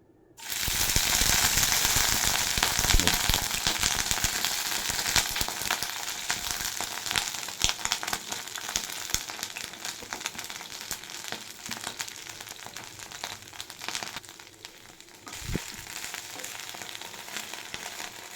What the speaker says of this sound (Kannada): ಬಿಸಿ ಆದಮೇಲೆ ಬ್ರೊಕೋಲಿಯನ್ನು ಹಾಕಿ ಒಂದು 2 ನಿಮಿಷ ಫ್ರೈ ಮಾಡ್ಕೋಬೇಕು.